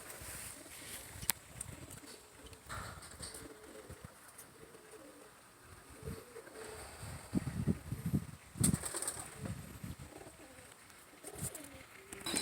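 Racing pigeons coo in a South Texas loft, their soft, low, repeated coos overlapping at close range amid light rustling and wing movement.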